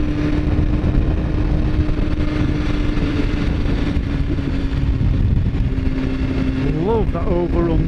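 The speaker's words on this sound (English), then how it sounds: "That overrun pop." A 2015 BMW S1000RR roars steadily under wind rush as the rider cruises, then the exhaust lets out a few popping crackles on overrun as the throttle closes. A voice talks over the engine.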